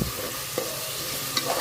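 Finely chopped chicken pieces sautéing and being stirred in a pan with garam masala and other spices, giving a steady close sizzle with a couple of faint utensil scrapes.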